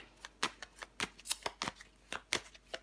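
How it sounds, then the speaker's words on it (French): A tarot card is laid down over another card, giving a quick run of crisp, close papery snaps and slaps in an irregular rhythm, with no talking. "On va recouvrir la carte de l'étoile."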